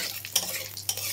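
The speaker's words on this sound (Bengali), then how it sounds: "কালো জিরে ভাজতে বেশি সময় লাগে না।" Black cumin (kalonji) frying in hot oil after aubergine and hilsa fish: a short, steady sizzle with two quick utensil scrapes against the pan, over a low hum.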